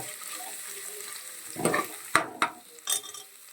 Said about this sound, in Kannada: ಪುದೀನ ಸೊಪ್ಪಿನ ಜೊತೆನೆ ಕೊತ್ತಂಬರಿ ಸೊಪ್ಪು ಆ್ಯಡ್ ಮಾಡಿಕೊಂಡು ಫ್ರೈ ಮಾಡ್ಕೊಂಬಿಡೋಣ.